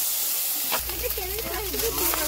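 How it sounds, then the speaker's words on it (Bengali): Small pond fish fry in hot oil with a steady, bright sizzling hiss that swells suddenly and then holds, while a person talks over it. "মাছগুলো ভাজা হয়ে গেছে"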